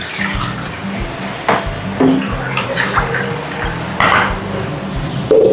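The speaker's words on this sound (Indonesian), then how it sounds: "kita masukin air" Water poured into a bowl of dissolved seasoning with salt and flavoring for crispy fried chicken, a steady close splashing trickle with a few clinks, loud and continuous without speech.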